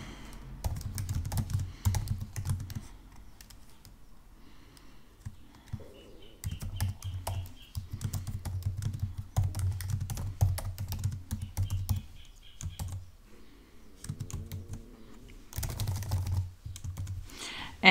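Bursts of typing on a computer keyboard, quick soft key clicks in several runs separated by short pauses, close and fairly quiet, with no talking over them.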